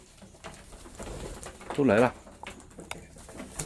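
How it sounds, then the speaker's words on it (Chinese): Birds coo at a forest resort in the old-growth forest south of Perth, Western Australia; a single close, loud coo stands out over quiet talk and faint background birdsong. "它那个声音就咕咕咕咕咕咕咕"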